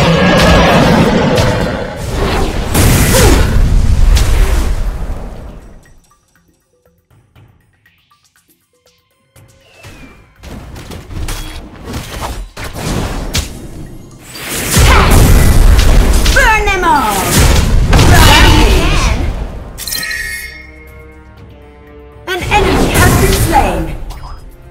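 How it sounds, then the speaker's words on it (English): A turret being destroyed in the mobile MOBA game Legend of Ace, with loud booming crashes and bursts amid battle effects, then a brief lull and further heavy impacts, all mixed with in-game voice lines. "Your team has destroyed a turret."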